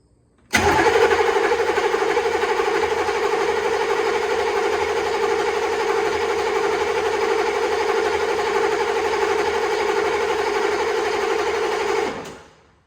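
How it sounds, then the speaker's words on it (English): An M998 Humvee engine cranks over steadily and loudly up close for about eleven seconds without catching or smoking, then cuts off. "crank it over, and hopefully it fires up"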